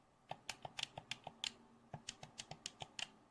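Quiet, rapid clicking of small gaming controller buttons with conductive action keys being pressed, about twenty soft taps in an uneven rhythm, close up with no voices.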